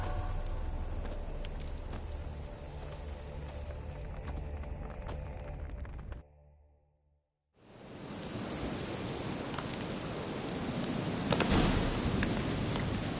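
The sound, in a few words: rain in the video game The Witcher 3: Hearts of Stone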